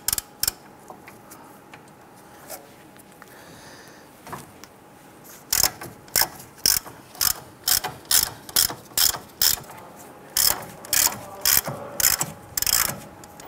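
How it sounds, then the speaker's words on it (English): A ratchet with a 21 mm socket loosens the upper ball joint nut on a 2002-2008 Dodge Ram 1500. A few isolated clicks come first, then rapid bursts of close, sharp ratcheting clicks. "Using a 21 millimeter socket, I want to go ahead and loosen this nut"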